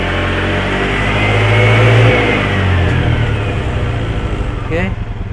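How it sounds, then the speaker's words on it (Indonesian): A Suzuki Skydrive motorcycle engine is revved and held, giving a loud, steady, droning roar that swells slightly and then eases without pause. "Oke, kita gas dulu."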